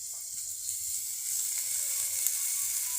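Garlic dropped into a paste already frying in hot oil in a frying pan, giving a steady, close, bright sizzle that holds at an even level throughout, with no voices.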